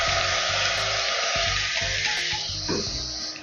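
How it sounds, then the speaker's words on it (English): Sukuma wiki greens dropped into boiling water in a pot, a loud hissing sizzle that settles and fades as the leaves go in, with no one speaking. "right about now, I'm going to add the Sukuma Wiki."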